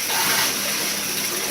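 Soapy rinse water forced out through the spit valve of a trombone slide by blowing air, a steady loud rushing gush with no talking.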